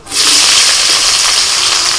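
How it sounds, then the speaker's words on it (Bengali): Chopped onion goes into hot oil in a wok, setting off a sudden burst of loud hissing sizzle that holds steady for a couple of seconds. "আমি পেঁয়াজটা দিয়ে দিলাম কড়াতে"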